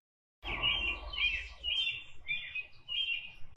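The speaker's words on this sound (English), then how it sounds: "Robins sound like they're saying a cheerful British goodbye." An American robin sings a clear, close series of short warbled phrases, about five rising and falling whistles in a steady cheerful rhythm after a brief silence, alone with no talk.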